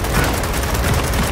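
Continuous gunfire from a Gears of War 4 base battle, a dense fusillade of overlapping shots and booms filling the whole moment at steady loudness, with no clear gaps between bursts.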